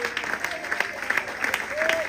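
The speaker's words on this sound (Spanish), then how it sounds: "Dale ese aplauso al Señor." Church congregation clapping for the Lord during a worship service, a steady patter of hands with a voice calling out over it and a sung or shouted tone drifting through.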